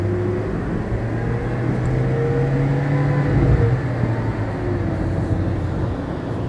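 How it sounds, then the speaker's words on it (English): A car on a rural road in Fukui, Japan, accelerates to overtake a slow car. The engine drones steadily, with rising tones and a brief surge of rumble midway, all under constant road noise. "I'm gonna pass this slow car."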